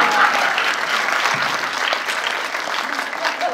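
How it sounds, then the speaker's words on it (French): Steady, dense applause from a cinema audience at a film premiere, sustained and evenly loud across the whole moment with no pauses. "Applaudissements, s'il vous plaît."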